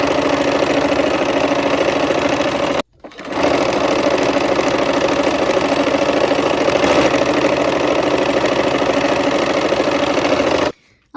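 A sewing machine stitching a quilt, running in a loud, fast, steady whir for several seconds, briefly stopping, then whirring again for a long stretch before cutting off.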